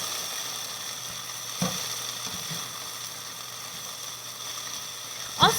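Cooked broccoli tossed into a hot pan for a chicken and broccoli dish gives a steady, even sizzle, with a soft clatter near the start and another sharper knock at the end.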